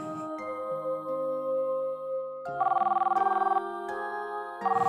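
A phone ringtone plays a tonal melody, with bursts of rapid trilling rings repeating near the end.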